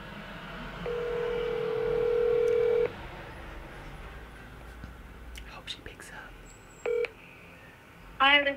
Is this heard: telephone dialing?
yes